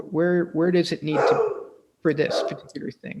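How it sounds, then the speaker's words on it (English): A pet dog barking in the background during a talk, several sharp barks mixed in with a person speaking close up. "Is that a dog I heard in the back?"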